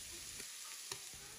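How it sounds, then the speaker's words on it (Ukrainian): Chicken liver frying in oil in a well-heated pan over high heat, giving a continuous close sizzle with a few small crackles and pops and no talk. "На добре розігріту сковорідку наливаю олію та викладаю печінку. На великому вогні добре її обсмажую з обох боків"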